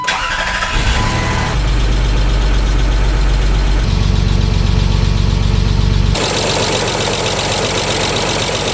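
The engine of a new Land Rover Freelander runs with an abnormal knocking noise, a loud close mechanical clatter whose pitch and roughness shift as the revs change, with no voices.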